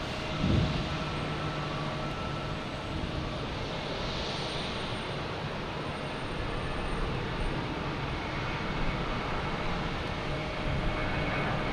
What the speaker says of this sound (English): here's JetBlue taking off